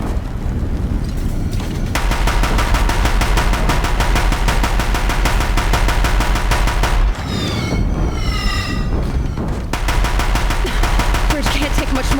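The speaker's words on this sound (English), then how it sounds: "If the Deathbringers keep firing" Deathbringer war machines firing in Horizon Zero Dawn, loud rapid machine-gun bursts in fast steady rhythm, briefly breaking off with a whooshing sweep before the hammering resumes.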